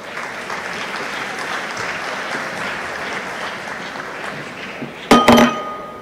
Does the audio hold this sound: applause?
yes